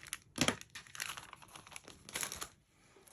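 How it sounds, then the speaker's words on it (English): Paper being creased and rubbed flat along the fold of a paper bag for a mini album, with crinkling and scraping bursts near the start and again later, fairly quiet and close, no voices. "so we can go ahead and burnish that down"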